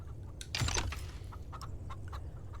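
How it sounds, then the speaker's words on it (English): Chickens in the farming game Farm Together 2 cluck in a short burst, followed by scattered faint clucks and clicks over a low background hum, with no one speaking. "There's chickens up on the top over there I haven't messed around with."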